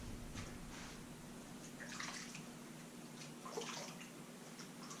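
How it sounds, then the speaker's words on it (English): Water splashes and trickles onto a forearm to wet the arm hair, a close, soft running and dripping sound with a couple of louder splashes, and no talking. "we are going to wet my arm hair"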